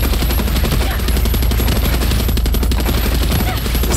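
A mounted turret machine gun in the video game Far Cry 6 fires in one loud, unbroken rapid burst that runs the whole time, with faint talk beneath it.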